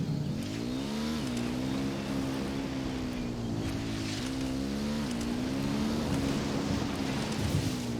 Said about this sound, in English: I'm riding the motorcycle.